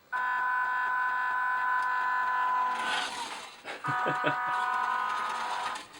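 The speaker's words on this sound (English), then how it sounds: "it sounds like the horn when you get on the gas" A WPL D12 mini RC truck lets out a loud, steady electronic horn-like tone as the throttle is applied, holding for about three seconds, breaking off briefly, then sounding again with a few short pulses.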